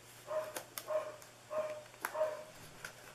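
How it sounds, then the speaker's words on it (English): A small female dog barks indoors in a series of about five or six short, fairly quiet barks with brief gaps between them, and no talk over them. "So sorry for her barking."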